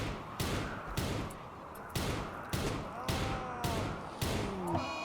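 Rapid bursts of gunfire in the colony game RimWorld, a regular volley of sharp cracks about twice a second with ricochet-like whines near the end.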